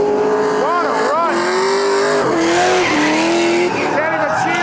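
A V8-swapped Nissan 350Z drifts at a grassroots Midwest event, its loud engine holding steady high revs with pitch dips at shifts, tires squealing continuously and thick smoke implied, close and sustained throughout with commentary mixed in.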